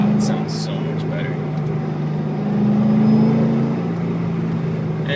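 Corvette Z06 engine revving with its exhaust set to loud mode, a steady, bassy droning rumble that swells slightly midway, heard from inside the car while a person talks over it.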